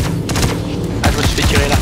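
Rapid bursts of gunfire ring out in the space game Star Citizen, loud and close, one short volley followed by a denser flurry of shots with no clear voices over them.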